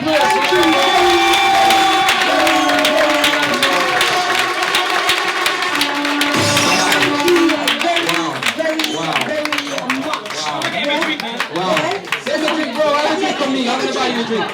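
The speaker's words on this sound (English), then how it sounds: "Let's give him a round of applause." Audience at a live relationship-discussion show breaks into a round of applause mixed with cheering and crowd chatter, clapping sustained throughout while voices talk and call out over it.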